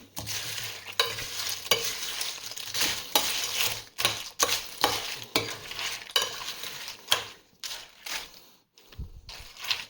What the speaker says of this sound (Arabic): رح نخلطهم هيك مع بعضهم